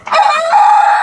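A farm chicken calls out loudly and close by in a single drawn-out crowing cry, standing alone without talk.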